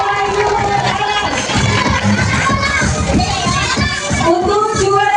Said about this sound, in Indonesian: Beri tepuk tangan yang meriah untuk Wahyu Nur Alam